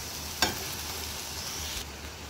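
Garlic, ginger, onion and tomato sautéing in a pan for tilapia, a sharp crackle as the aromatics hit the oil, then a steady soft sizzle that cuts off near the end.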